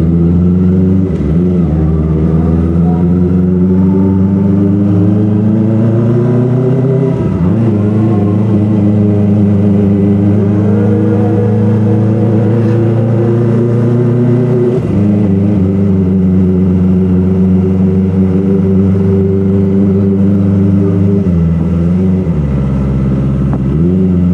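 Kawasaki ZX-25R Limited Edition motorcycle engine running steadily at low RPM on a village road, a loud continuous near drone with a few brief dips and rises in pitch as the throttle shifts.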